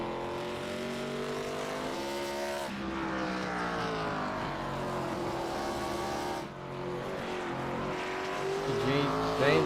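Race car engines during a Pro Cup Series stock car race at Irwindale, loud layered droning with rising and falling pitches as cars shift and pass, a continuous roar that swells toward the end.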